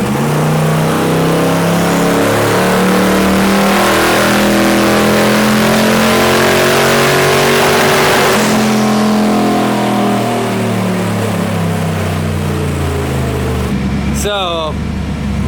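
Twin turbo LS-powered car engine revving hard on a dynamometer, a loud, sustained climb in pitch over several seconds before backing off, followed by a brief sharp burst near the end.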